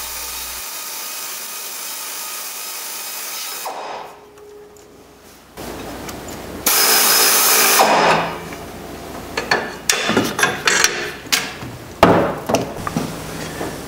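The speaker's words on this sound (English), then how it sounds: "I just pull out the air ratchet just to get the bolt out a little faster." An air ratchet backs out a bolt on a car engine. Bursts of pneumatic whirring come in short, uneven pulses near the mic after some quieter handling, and the later part is choppy with stop-start spurts.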